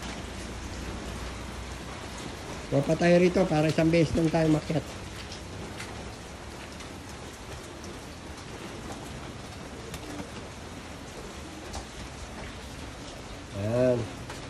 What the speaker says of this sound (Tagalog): Sa ulan.